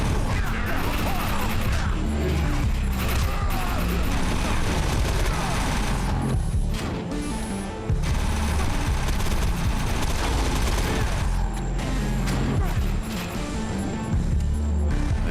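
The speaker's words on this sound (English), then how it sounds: "They're shooting my guy." Dense, continuous bursts of automatic gunfire rattle loudly in the video game Defiance 2050, rapid overlapping shots and crashes sustained with only brief lulls.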